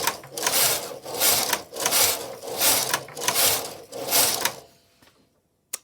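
A knitting machine carriage is pushed back and forth after weights are hung on the knitting, making a loud, close mechanical clatter and whir in about five rhythmic sweeps before falling silent, ending in a single click.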